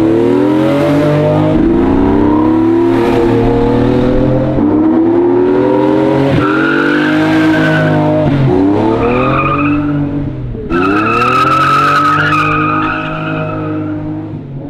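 A 500 hp 1969 Jaguar E-Type engine revs hard in rising and falling sweeps while its tyres squeal through a sideways slide, loud and close with no talking.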